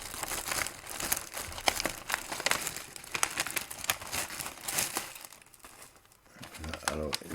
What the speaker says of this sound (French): Alors ici, on déballe le filtre, mais alors on est extrêmement prudent de ne pas abîmer la feuille astro-solaire.